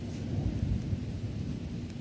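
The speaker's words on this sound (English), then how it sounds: "I can't reflect my disdain and my disappointment for our legal system any more than that thunder right" Deep rolling thunder rumbles steadily and loudly throughout, a continuous low roar from a thunderstorm with no voices over it.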